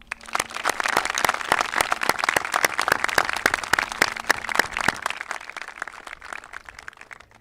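Graduation audience at a high school ceremony breaks into sustained applause, dense clapping building quickly and holding steady for several seconds before thinning out and fading in the last stretch.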